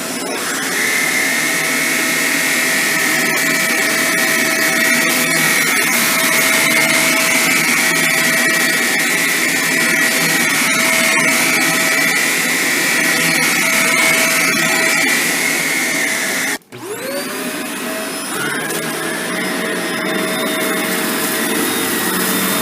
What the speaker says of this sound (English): a clip of the Shark NV752 doing some edge cleaning